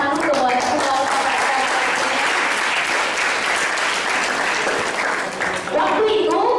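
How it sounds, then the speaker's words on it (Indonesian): Dense, loud applause from an audience at a motivational talk, steady claps filling the room for several seconds, briefly dipping near the end before a voice cuts in. "Jadi tepuk tangan dulu buat ketua PMP."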